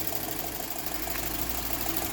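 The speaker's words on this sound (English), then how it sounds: "I'll just leave it running for a minute" A VW Eos engine idles after its EGR valve has been replaced, a steady, even running hum that sits close and moderately quiet with no talk over it.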